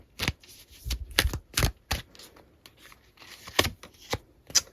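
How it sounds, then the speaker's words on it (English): A deck of tarot cards is shuffled by hand in a series of sharp, riffling bursts and soft slaps, close to the microphone and heard alone, with no talking. "we're going to keep shuffling because that was a lot of cards"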